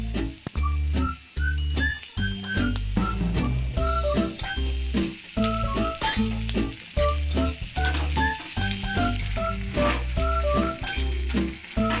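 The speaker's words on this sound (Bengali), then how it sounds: "পেঁয়াজটা ভালো করে ভেজে নিতে হবে।" Onion, garlic and ginger frying in a pan for chaler muri ghonto, a steady loud sizzle broken by repeated scraping and clanking of a spatula stirring against the pan.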